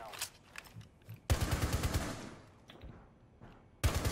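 Gunfire in a video game: rapid bursts of automatic shots, close and punchy, in separate volleys with short gaps between them, and a few scattered single shots before the first burst.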